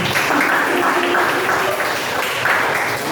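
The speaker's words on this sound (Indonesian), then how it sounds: "Beri tepuk tangan yang kedua" School audience clapping after a presentation, a steady, fairly loud round of applause from a group that swells slightly in waves and continues without break.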